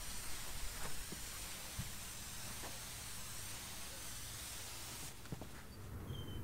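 A garden sprayer's steady hiss of spray streams out continuously over a lawn, broad and close, with faint clicks, then cuts off near the end.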